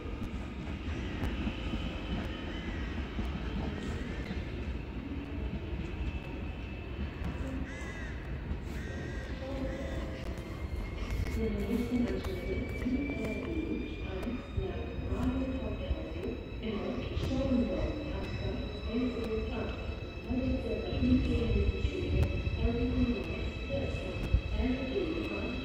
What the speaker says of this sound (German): Caution, the train is arriving.